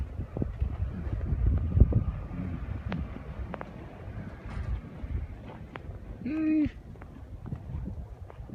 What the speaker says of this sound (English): It's still snowing, windy.